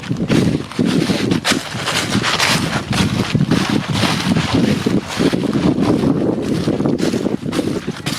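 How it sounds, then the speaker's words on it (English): Wind blowing outdoors at the Chickamauga battlefield, loud gusty rumbling buffeting the microphone continuously, with brief lulls between gusts. "It's kind of windy out here."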